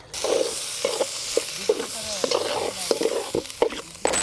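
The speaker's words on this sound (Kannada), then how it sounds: "ರುಬ್ಕೊಂಡು ಒಗ್ಗರಣೆಗೆ ಹಾಕಿ ಹಸಿ ವಾಸನೆ ಹೋಗೋವರೆಗೂ ಚೆನ್ನಾಗಿ ಬೇಯಿಸ್ಕೋಬೇಕು" Steady sizzle of ground green masala paste for chicken gravy frying in tempering oil, punctuated by repeated scraping stirs of a spoon against the pan.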